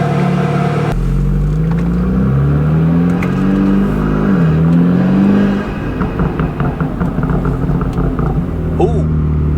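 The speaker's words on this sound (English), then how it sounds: "Do you guys hear how it's like distinctive pops now?" Bootmod3-tuned BMW F30 with a deep, revving exhaust note, followed by a loose run of crackling burbles and pops as the revs drop. The sound is close and loud, with some talk over it.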